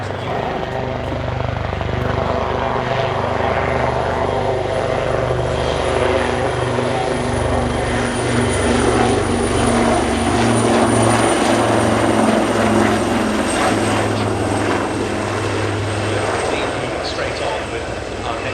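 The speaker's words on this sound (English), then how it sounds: "we've seen the Leonardo Wildcat HMA.2 maritime attack helicopter being displayed solo by their helicopter display team" Royal Navy Leonardo Wildcat HMA.2 maritime attack helicopter in a solo flying display at an airshow, a loud, steady rotor and turbine roar with pulsing blade chop throughout, with a voice talking over it.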